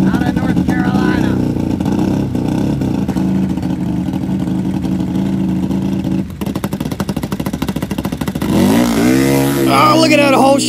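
A turbocharged Can-Am V-twin dirt drag racer roars loudly and steadily at the launch, its engine note rising sharply near the end, with crowd and announcer noise mixed underneath.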